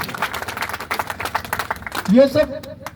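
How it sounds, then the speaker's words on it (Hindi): Rally crowd applauding, a burst of scattered close clapping with uneven rhythm, overlapped by a speaker's voice that rises in the final second. "ताली बजे कि नहीं बजे?"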